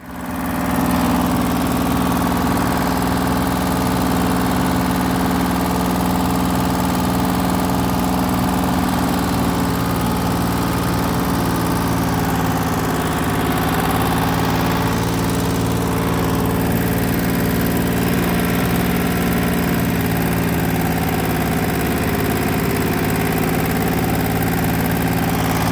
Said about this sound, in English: So we're going to try this again, this time with the dozer.